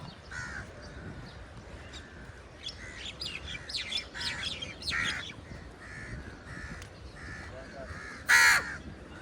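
Several crows caw repeatedly at a moderate distance beside a river in the morning, with a louder, harsher call near the end over a steady outdoor background.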